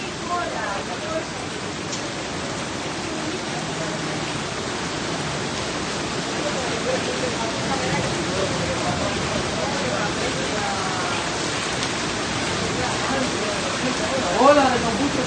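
Floodwater rushing after heavy rain on the island of Paros, a loud, unbroken broadband roar of moving water filling the whole stretch, with voices faintly mixed in beneath it.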